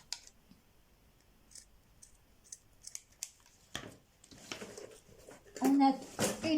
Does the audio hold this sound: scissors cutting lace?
yes